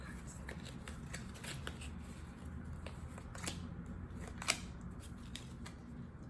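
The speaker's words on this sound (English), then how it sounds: "I'll get these nice and shuffled till they feel right." Tarot cards are shuffled by hand in a continuous run of quick riffling flutters and soft slaps, close and fairly quiet, with one sharper snap near the end and no talk over it.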